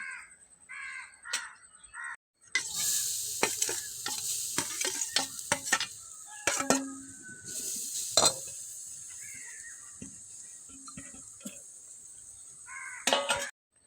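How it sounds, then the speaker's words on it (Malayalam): Grated coconut is roasted and stirred in a well-heated pan for a Kerala curry, a soft steady sizzle broken by many sharp scraping and clinking strokes of a spoon, while crows caw nearby outdoors. "അപ്പോൾ തേങ്ങ ഒന്ന് വറുത്തെടുക്കാം അപ്പോൾ ചട്ടിയൊക്കെ നല്ലോണം ചൂടായിട്ടുണ്ട്"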